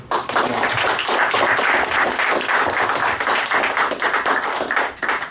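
An open mic night audience for writers applauds a poet after a reading, loud, close, and continuous clapping from a small group that holds steady before tapering slightly at the end.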